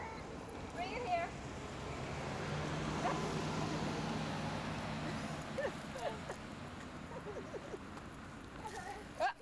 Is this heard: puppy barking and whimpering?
yes